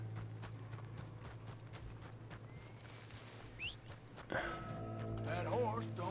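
Horse hooves clip-clop at a steady walking rhythm in Red Dead Redemption 2, close and continuous, joined late by a sharper clatter and a whinny-like cry, with a low engine-like hum beneath.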